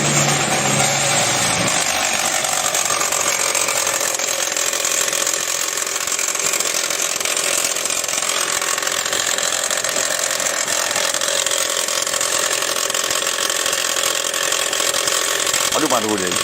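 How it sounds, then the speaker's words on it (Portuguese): A car engine just after starting makes a loud abnormal racket, a constant harsh mechanical clatter and rattling whine that runs unbroken and close for the whole stretch, with no talk over it. "Vou dar partida e olha só a barulheira que vai acontecer no motor."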